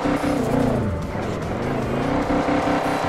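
A Chevrolet Chevette drifts on a circuit, loud close engine revving in rising and falling sweeps mixed with tire squeal, continuous throughout.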